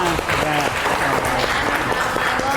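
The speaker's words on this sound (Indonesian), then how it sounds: "tepuk tangan untuk kelompok 1 semuanya" Group of people applauding for a presenting group in a classroom-style session, a steady patter of clapping filling the whole moment, with a brief spoken word over it.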